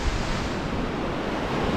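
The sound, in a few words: wind and waves on the coast after a storm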